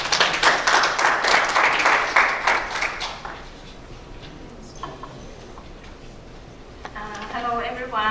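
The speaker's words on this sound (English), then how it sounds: "Please give a big round of applause." Audience applause for a speaker at a conference, a burst of clapping for about three seconds that fades out, followed by quiet room tone and a voice beginning to speak.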